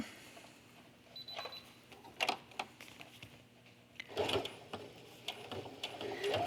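A sewing machine slowly top-stitches a cork fabric tote, giving faint, intermittent bursts of rapid needle clatter separated by quiet pauses, close by in a still room.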